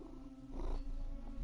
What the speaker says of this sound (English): My cat is trying to climb on me and purring into my microphone.